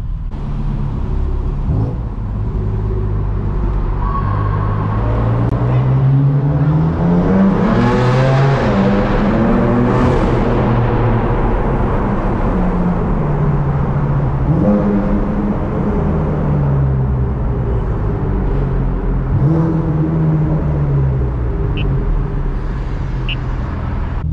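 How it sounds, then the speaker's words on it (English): A modified BMW M4 F82 drives through a city tunnel in San Francisco, its engine loud and close, revving and rising in pitch through the gears with echoing reverberation throughout. "Possibly get some flyby action right there."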